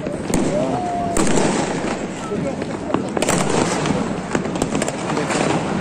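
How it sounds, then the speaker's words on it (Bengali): Dense New Year fireworks bursting all around over Dhaka, a continuous crackling roar with sharp pops and booms scattered through, loud and close, with crowd voices mixed in. "হাজার হাজার আতশবাজি সব দিকে ফুটছে এবং রাতের অন্ধকারে আলোকিত করছে পুরো শহরকে।"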